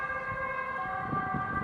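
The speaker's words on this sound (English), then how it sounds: "not weird, just different sound of that siren, right?" Finnish ambulance siren wailing steadily and loud, a sustained multi-tone electronic siren with layered harmonics over low road rumble, heard alone without talk.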